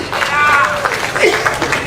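Crowd applause at a political rally in Permatang, a dense clapping roar that swells and dips across the short stretch, with a voice speaking over it.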